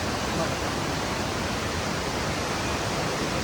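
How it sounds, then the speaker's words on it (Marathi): The Dhutpapeshwar waterfall, a steady broadband roar of rushing water heard continuously from nearby, dense and unchanging throughout. "वरून बघा धबधबा वाहतोय"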